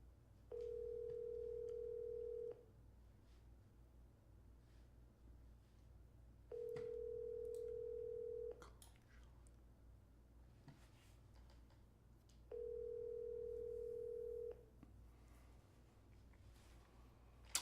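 A phone call rings out as a ringback tone, three steady tones each about two seconds long, spaced evenly over a faint background hum.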